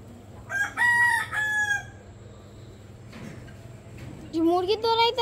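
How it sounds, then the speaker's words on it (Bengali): Chickens squawk loudly close by, with harmonic rooster-like calls in two bursts separated by a quieter gap, while farmyard background noise continues underneath. "কুকুরে মুরগি দৌড়াইতেছে। মুরগি তো রাখে সকাল সকাল।"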